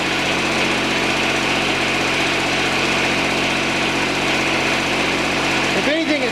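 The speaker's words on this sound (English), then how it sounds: "Let it sit there and idle for a minute, and then we'll advance the throttle." The small engine of a John Deere 455 lawn tractor idling, a loud, steady mechanical drone held close for several seconds, with someone speaking briefly at the end.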